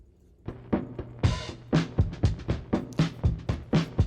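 Drum break with the low end EQ'd out and low-pass filtered, a steady pattern of about a dozen muffled hits with no bass thump, loud and close, alone with no talk.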